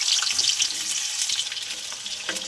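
Potatoes frying in hot oil in a kadai with dried red chilli, cinnamon and cardamom, a steady close hiss and crackle running unbroken throughout with no voices.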